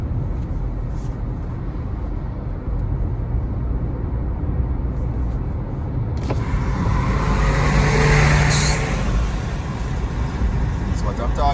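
Car driving along a wet road in Jamaica after a Category 5 hurricane, a steady broadband tire and engine rush that swells midway with a passing vehicle, heard from inside under intermittent talk.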